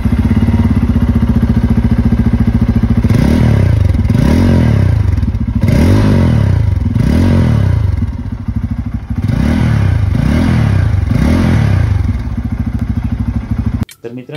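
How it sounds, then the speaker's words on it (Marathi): A Bajaj Pulsar F250 motorcycle idles loudly up close, then its exhaust barks through a series of about eight sharp throttle blips, each revving up and falling back to idle. "चला आता पाहूया बाईकचा एक्झॉस्ट"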